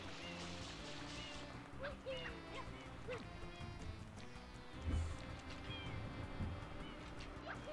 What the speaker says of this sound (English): Those are cats making that noise.